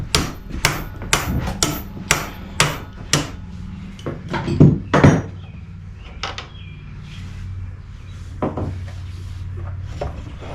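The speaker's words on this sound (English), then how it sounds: "I'm going to thread this in a couple notches and we're going to hammer out" Repeated sharp metal hammer blows knock the axle out of a 2014 Honda CBR650F motorcycle wheel, about half a dozen evenly spaced strikes up close, then a few duller knocks and scrapes as the axle slides free.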